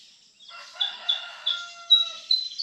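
A yellow-breasted bird sings from high in a tree in San Antonio, Quezon, giving a run of bright, repeated whistled notes at moderate distance with no other sounds around it.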